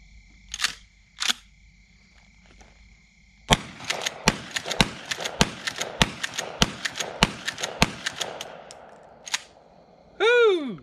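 A Mossberg Shockwave shotgun fires about a dozen sharp, loud blasts in a rapid, slightly uneven string, preceded by a couple of clicks and followed by a rising chirp.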